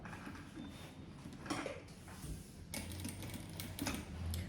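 A sewing machine stitching piping onto fabric with a standard presser foot: a steady, fairly quiet mechanical whir with soft ticking, in bursts that shift in pace, and no talk.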